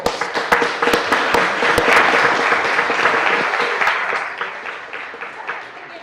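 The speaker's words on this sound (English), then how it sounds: "let's give our Bulldogs a round of applause" A board meeting audience gives the Bulldogs team a round of dense, sustained applause, with a few sharp nearby claps standing out and voices murmuring underneath as it slowly fades.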